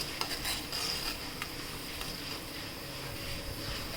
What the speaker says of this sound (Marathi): त्याच्यात आपण आलं लसणाची पेस्ट केली होती ती टाकूया ती छान परतून घ्यायची